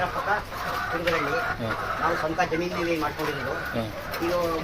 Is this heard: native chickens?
yes